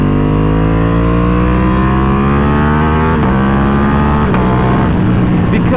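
Ducati Panigale V2 motorcycle fitted with a full Akrapovic exhaust, engine note rising steadily under acceleration with pitch climbing through gear changes, very loud and close, with wind buffeting over it.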